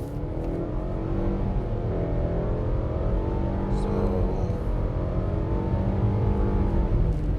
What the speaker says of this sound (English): Just gonna try a quick acceleration out of a turn. But let's try the acceleration in sport.